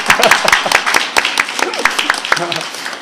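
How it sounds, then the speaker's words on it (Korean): A church congregation at a Christmas service claps in scattered, crisp hand claps at close range while voices talk over them. "박수하겠습니다"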